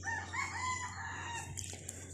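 A rooster among a neighbour's flock of chickens crows once, a faint, drawn-out cock-a-doodle-doo heard from some distance, with a few soft clucks trailing off afterward.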